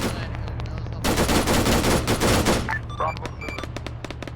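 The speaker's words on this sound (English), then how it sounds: "They're shooting into friendlies again." Rapid automatic gunfire bursts in a wargame, loud and dense for about a second and a half, then scattered single shots and radio-like chatter follow.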